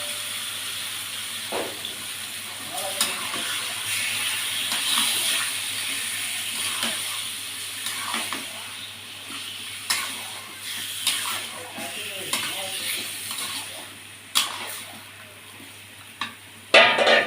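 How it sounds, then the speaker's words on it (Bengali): Goat meat goes into a pan of fried onions and is stirred, with a low steady sizzle under repeated close scraping and clattering strokes that grow sharper toward the end. "আমার পেঁয়াজটা ভাজা ভাজা হয়ে গেছে। এবারে মাংসটা দিয়ে দেবো আস্তে আস্তে।"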